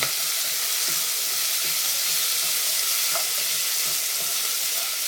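Tomato and chili fry in a pan with a loud, steady sizzle while being stirred, and soft scraping knocks come through at intervals.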